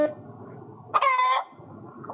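Chickens let out a short, loud cackling squawk in the middle, standing out clearly over a low background murmur.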